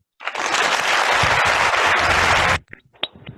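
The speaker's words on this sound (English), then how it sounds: "Let's give a round of applause to Bill Gates" Audience applause at a business school faculty development program, a dense steady burst of many hands clapping for over two seconds before cutting off abruptly, with a few faint stray sounds afterward.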